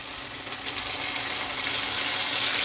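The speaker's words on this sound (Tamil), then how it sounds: "பூண்டு நல்லா வறுத்தக்கப்புறம் நம்ம அரைச்சி வச்சுருக்க பேஸ்ட்டை சேர்த்துக்கிறேன்" Ground mustard paste hits hot oil with fried garlic in a pan for kadugu kulambu, a bright close sizzle that swells and grows louder over the few seconds.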